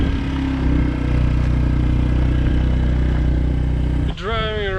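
Motorbike riding a rough, horrible road near the Jatiluwih rice terraces in Bali, giving a close, steady engine drone with low rumble and rattling, ending in a brief rising tonal whine.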